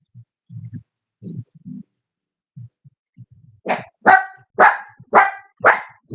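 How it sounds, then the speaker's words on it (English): A dog barks five times in a steady, loud run of sharp barks at the end, after a stretch of quiet speech from a person nearby. "Didn't nobody ask for a bark from you?"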